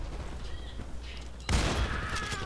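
Spas-12 shotgun fired in a first-person shooter game, one loud sharp blast midway after quieter background game noise, followed by a ringing tail.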